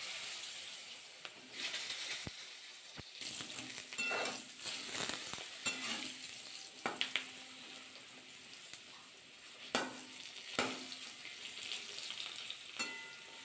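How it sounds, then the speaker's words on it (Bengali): Eggplant pieces, first coated in salt and oil, fry in hot oil for a Bengali begun bhapa, giving a steady close sizzle broken by sharp scrapes and clicks of stirring, with no voices. "এবার বেগুনগুলো ভাজা করে নেব।"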